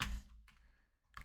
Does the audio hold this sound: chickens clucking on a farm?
no